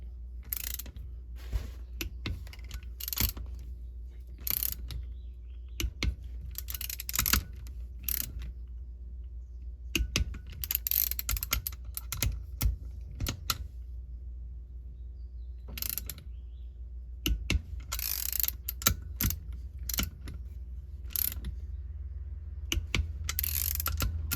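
A ratchet wrench clicks in short bursts as bolts on a Yamaha 701 61X/62T jet ski engine for a 1994 SN Superjet are run down to torque, with quiet pauses between each close, crisp round of ratcheting.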